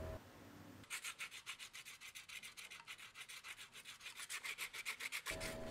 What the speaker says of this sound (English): then filed and sanded them smooth